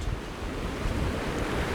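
Ocean waves wash onto the shore in a steady, close rush of surf, with wind buffeting the microphone and no voices.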